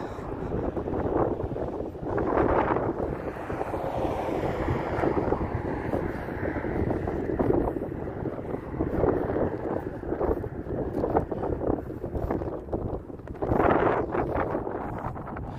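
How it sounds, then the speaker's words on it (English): Strong wind buffets the microphone on a morning walk in Las Vegas, a continuous loud rushing roar with gusts swelling and easing throughout. "I checked the wind before I left, and I didn't think it was going to be kicking up this much"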